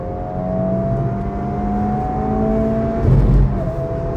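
A 2023 Honda Civic Type R engine accelerating: a steady, loud mechanical drone with rising tonal whine that builds slightly toward the end, with no other sounds on top.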